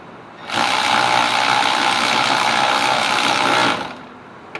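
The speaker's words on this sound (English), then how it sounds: "use our little electric ratchet, or you can do it all the way by hand" A small electric ratchet whirs continuously for about three seconds, running in the bolts of a rear hub bearing on a Ford Taurus, close and loud with a buzzing, gear-driven rattle.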